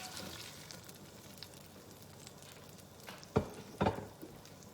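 Salisbury steak patties sizzle softly in their rendered oil, a quiet steady hiss broken near the end by a couple of sharp pops.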